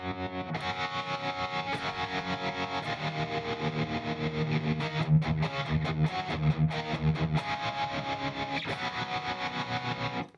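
Electric guitar played through a Line 6 HX Effects unit on a distortion and optical tremolo preset, giving a loud, sustained, driven tone that rings steadily for about ten seconds with a rhythmic pulse, and no talking.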